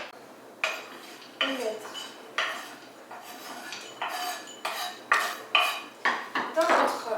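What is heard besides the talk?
chopping almonds with a knife on a cutting board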